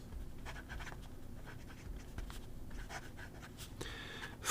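A Hongdian fountain pen with a fine nib scratches softly across paper in short strokes, faint and close, with a brief louder scrape near the end.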